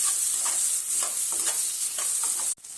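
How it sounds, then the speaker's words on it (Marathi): Onion frying in extra oil for a bhindi bhaji gives a dense, bright sizzle with repeated spatula scrapes and stirs, close and steady, briefly cutting off near the end. "मी थोडंसं जादा तेल घातलं आता कांदा आपण व्यवस्थित भाजला की मग यात हळद घालून घेऊ"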